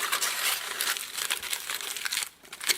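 A sheet is crumpled up on top of a tennis ball, making continuous crinkling and rustling that stays close and fairly loud before briefly easing off and then crackling once more at the end.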